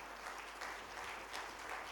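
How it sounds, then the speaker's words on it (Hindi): An audience at a public talk claps in a steady, even wash of applause, close and moderately loud, lasting the whole two seconds. "अगर ताली मारनी है ना तो जोर से मारिए।"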